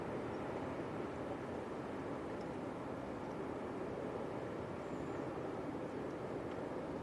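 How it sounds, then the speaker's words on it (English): Ryanair Boeing 737 MAX airliner at Leeds Bradford Airport during a windy storm, a steady broadband roar of jet engine noise, moderately distant and constant with no talking. "this is Ryanair from Fuerteventura"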